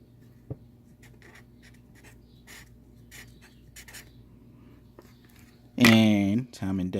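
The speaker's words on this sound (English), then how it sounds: "I'm going to write it down." A pen scratches faintly on paper as notes are written by hand, in short, quiet strokes with pauses between them, until a person starts talking near the end.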